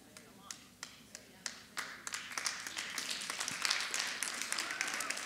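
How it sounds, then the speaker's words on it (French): Church congregation clapping during a sermon, beginning as a few sharp separate claps that quickly thicken into lively, uneven group applause building toward the end. "J'espère que c'est Jésus que vous applaudissez."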